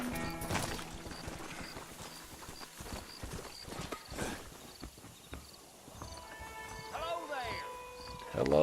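Horse hoofbeats from the video game Red Dead Redemption, a run of clip-clop steps with a brief whinny, heard beneath speech, music and other game sounds.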